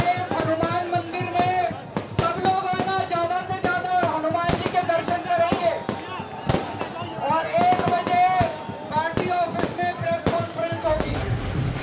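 Fireworks welcome Arvind Kejriwal on his arrival at the Chief Minister's residence: sharp scattered bangs and crackles burst throughout, partly under a loud voice with tonal, music-like sound running over them.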